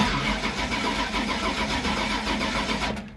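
Supercharged Holden HJ on methanol cranks and catches, its engine churning steadily close by for about three seconds before cutting off, with no talking.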